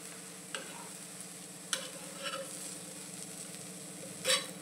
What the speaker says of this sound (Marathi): आणि परत एकदा हे हलवून घ्यायचं छान.